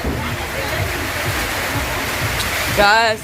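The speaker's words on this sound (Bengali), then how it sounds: "বাইরে যে পরিমাণ বৃষ্টি পড়তেছে" Heavy rain pours outside in a constant, dense hiss close by, with no let-up, until a brief tonal burst cuts in near the end.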